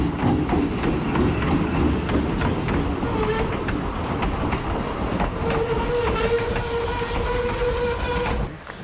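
An Inca Rail passenger train from Cusco rolls over a rusty bridge along the Urubamba River, with a continuous loud rumble and clatter and sustained horn tones in the second half.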